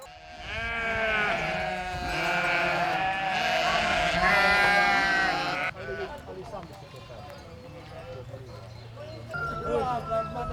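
Sheep bleat loudly in a pen as the flock is splashed with water, several overlapping wavering calls close by, with someone talking over them and quieter bleats afterward.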